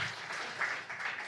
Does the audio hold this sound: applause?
yes